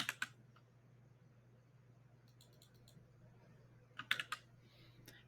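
Quiet bursts of computer keyboard typing while entering text in Illustrator, a few quick clustered clicks at the start and again near the end over a low room hum.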